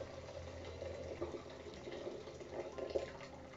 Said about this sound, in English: on a pot, we're going to add warm water